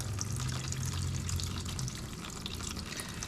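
Coolant gushes out of the bottom of a Yamaha YZ450F engine as a continuous close hiss and splatter of liquid, steady and moderately loud without speech.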